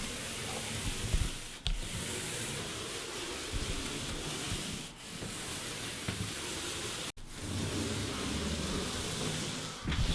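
A paint roller rolls paint onto an interior wall, a continuous close, wet rubbing hiss that swells and dips with each stroke.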